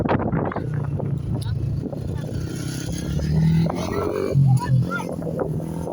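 Strong wind blows by the rough sea, roaring steadily against the microphone in a low rumble while a person talks over it throughout.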